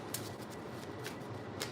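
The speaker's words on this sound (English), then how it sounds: "One more shuffle" A deck of tarot cards is shuffled by hand in a few quick riffling bursts, soft papery flutters spaced over a quiet room background, with no speech.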